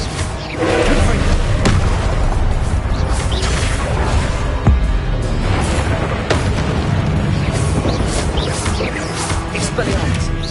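Confringo explosion spells are cast repeatedly in Hogwarts Legacy, giving loud booming blasts and crackling bursts close up over a constant roaring combat din.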